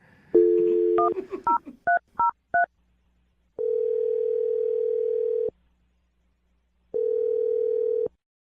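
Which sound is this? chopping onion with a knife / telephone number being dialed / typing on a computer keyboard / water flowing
telephone number being dialed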